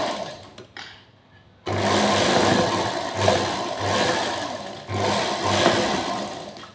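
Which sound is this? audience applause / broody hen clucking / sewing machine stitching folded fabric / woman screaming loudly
sewing machine stitching folded fabric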